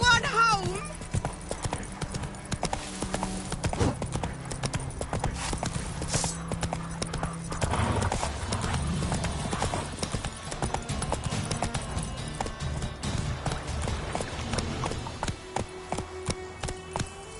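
In The Witcher 3 video game, the horse Roach gallops with rapid, rhythmic clip-clopping hooves close up, continuing throughout while someone talks over it and game music plays underneath.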